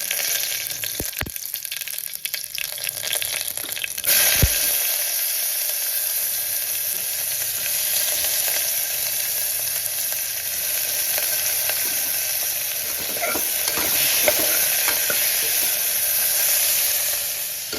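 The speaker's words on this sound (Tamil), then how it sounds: "கடுகு, உளுத்தம்பருப்பு, கருவேப்பிலை போட்டுருக்கேன்." Mustard seeds, urad dal and curry leaves sizzle in hot oil for sambar rice, a loud continuous frying hiss close by, with a few sharp pops and crackles near the start.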